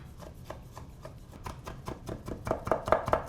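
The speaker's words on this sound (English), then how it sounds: "We're gonna take this escabeche, hand chop it, and then fold it in there" Knife hand-chopping pickled escabeche vegetables on a board, a quick regular run of close crisp chops that grow louder and wetter toward the end, alone without talk.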